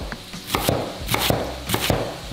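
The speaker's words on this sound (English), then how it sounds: "So, I've just got a little bit of lettuce here. Just chop it up nice and easy." A knife chops lettuce on a board in three quick bursts of sharp, close cuts, each a rapid cluster of crisp strikes separated by short pauses.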